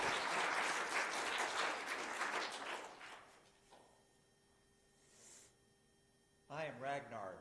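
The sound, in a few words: audience applause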